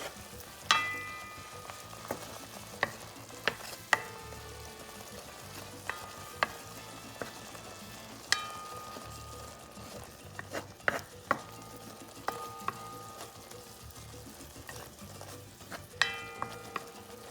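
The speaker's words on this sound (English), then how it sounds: "Add the crab meat. Mix it up so I start getting the flavors." Crab meat sizzles and fries steadily in a pan for Puerto Rican rice, with sharp scrapes and clacks from a utensil stirring it every second or so, close and clear with no talking.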